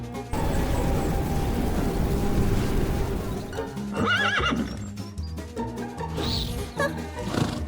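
A unicorn's neigh in a bedtime fairy tale, played as a horse whinny sound effect: a loud, shrill whinny over galloping clip-clop hooves, with a crash-like hit and a swirl of other effects behind it.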